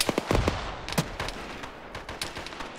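A grenade launcher round fired and bursting amid a firefight in a military shooter, a cluster of sharp cracks and thuds up front followed by a scatter of further pops and distant shots, no talk.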